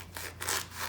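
A knife sawing through the end of a sock to make a sock puppet, a few short rasping back-and-forth strokes, close and moderately loud.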